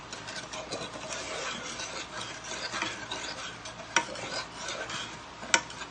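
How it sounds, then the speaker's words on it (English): A spoon stirs a vegan grape jello mixture in a pot, making soft continuous scraping and swishing sounds with a couple of sharper clinks against the pot, fairly quiet and close with no voices. "this is all going to be stirred together"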